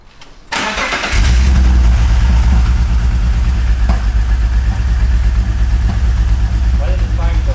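A BMW wagon engine with a rough-running misfire cranks and catches, then settles into a loud, uneven idle that continues steadily, with voices talking over it.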